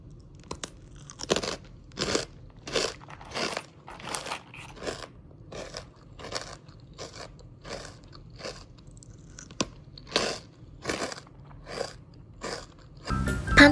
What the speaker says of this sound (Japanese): はじめはカリッと、後からサクサクとした食感は唯一無二。